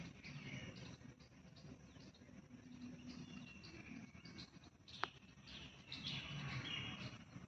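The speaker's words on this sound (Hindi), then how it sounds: "पक्षियों की आवाज़ें सुनिए।" Birds chirp softly in a park in the morning, with faint, scattered high tweets over a hushed outdoor ambience and a single sharp click partway through.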